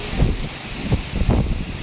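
Strong midday wind buffets the microphone outside Baiturrahman mosque in Banda Aceh, loud irregular gusts thumping and rustling close up, no speech.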